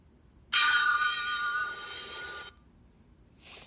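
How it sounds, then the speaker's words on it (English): A mobile phone ringtone bursts in suddenly, a bright electronic tone held for about two seconds before cutting off, then a brief softer chirp starts near the end; fairly loud against a quiet room, no talk. "that was my phone going off."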